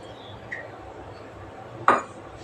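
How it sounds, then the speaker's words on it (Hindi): A metal kadai is set down for making semolina halwa, giving a light clink early on and a sharper metallic knock a little later against quiet kitchen background. "तो यहाँ कढ़ाई मैंने रख दिया है, मैं जा रही हूँ सूजी का हलवा बनाने, और इसमें तेल जो है कि मैं डाल देती हूँ"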